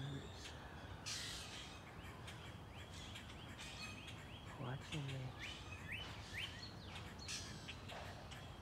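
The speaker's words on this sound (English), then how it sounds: "All the birds." Birds call from trees in a scattered mix of chirps, squawks and crow-like caws, faint and distant over a rustling outdoor background, with a brief spoken word.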